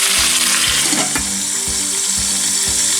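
Chicken sautéing in its own juices in a pan for a chicken gravy and fry, giving a steady loud sizzle up close with faint soft stirring scrapes throughout.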